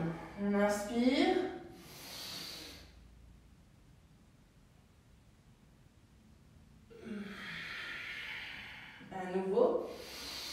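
Two long, soft, airy breaths drawn during a vinyasa yoga class, each a few seconds of breathy hiss. A calm voice speaks just before and just after them.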